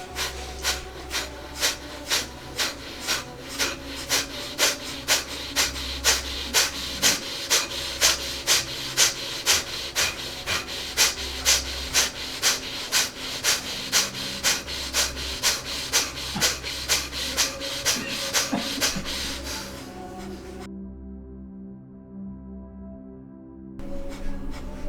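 Rapid yoga breath of fire breathing, quick forceful rhythmic exhales through the nose repeating steadily for about twenty seconds before stopping, followed by near silence.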